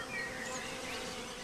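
Bees buzz steadily among spring blossoms in the Swiss countryside, a continuous close, moderately loud insect drone with wavering pitch and no voices.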